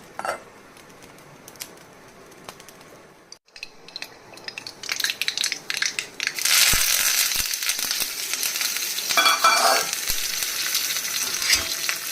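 Asafoetida and mustard seeds tempering in hot oil for bisibelebath, a quiet start building to a loud, dense, crackling sizzle with popping seeds that continues steadily to the end.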